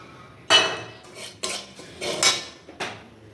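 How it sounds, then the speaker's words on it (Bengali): A utensil scrapes and clinks against a pan as dry rice flour is stirred and fried, giving several distinct, fairly loud strokes at irregular intervals with quiet gaps between them, and no voices. "এবার লবণ দেবো, এই যে ভালো করে কিন্তু চালের গুঁড়াটা ভাজতে হবে।"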